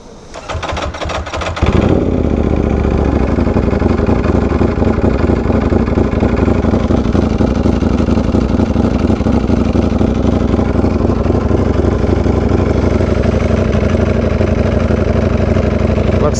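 A Ducati V4R motorcycle engine idles steadily and loudly after a brief quieter start, with a slight fluctuation in its rumble and no talking.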